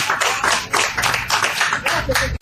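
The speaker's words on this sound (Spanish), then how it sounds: "Es un aplauso a Jesús." A church congregation applauds in praise of Jesus, a dense, sustained wash of clapping that swells and dips in waves, fairly loud and close.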